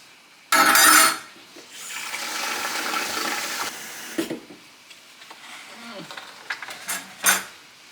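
Lukewarm water filling a bucket with borax and baking soda for homemade laundry detergent, a brief loud splash followed by a steady running pour, then scattered clunks and handling noises, with a person talking.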